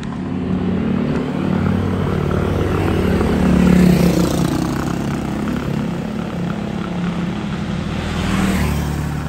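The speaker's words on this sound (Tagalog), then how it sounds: "So tingin ko ito yung motor." A motorcycle on the road passing a stopped rider, its engine drone swelling to a peak midway and then fading, a loud steady rumble with no talking.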